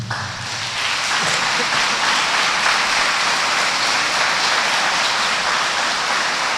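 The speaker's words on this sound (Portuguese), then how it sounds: "Dê uma salva de palmas para ele" A church congregation breaks into loud, dense applause that swells within the first second and holds as a steady wash of clapping to the end.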